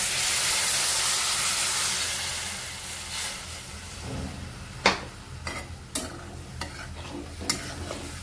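Ground masala water poured into a pan of cooking eggplant for bharit sets off a loud hissing sizzle that slowly fades, followed by a few sharp spoon clinks as it is stirred.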